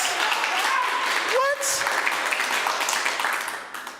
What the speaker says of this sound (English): Yes, clap it up for artists with merch, please.